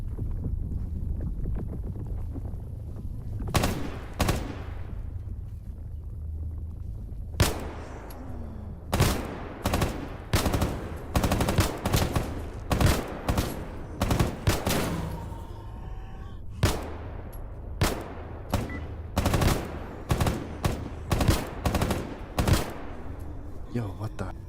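Repeated gunfire in the shooter S.T.A.L.K.E.R. GAMMA: sharp, loud bursts and single shots crack in clusters over a low rumbling ambience, with brief pauses between volleys and a player talking at points.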